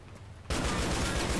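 Gunfire in Grand Theft Auto IV: The Lost and Damned, a dense burst of rapid shots starting abruptly after a quiet moment and continuing loudly to the end, no talk.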